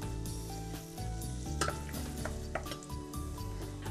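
Hot butter sizzles steadily in a pan for soup, a continuous loud frying hiss with occasional clinks and stirring scrapes of utensils against the pan.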